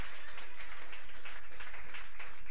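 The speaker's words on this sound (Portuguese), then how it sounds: "Pode bater palmas de vitória para Jesus" Church congregation at a Portuguese-language sermon claps hands in praise, dense and continuous applause filling the space at a steady, even level throughout.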